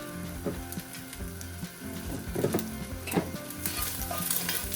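Butter sizzling and melting in a hot pan with stirring scrapes, a steady close frying hiss broken by a few clinks and knocks, no talking.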